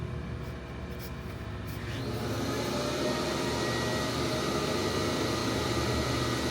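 A Foley 653 reel grinder running a test grind on a mower reel, a steady mechanical whir with dense hum that swells slightly and then holds constant, with no talk.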